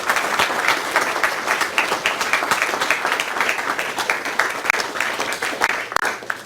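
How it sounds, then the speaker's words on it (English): Audience applause at the close of a keynote on learning analytics at Michigan, a dense, steady crowd clapping that stays loud and continuous throughout, with no voices standing out. "If you get a round of applause."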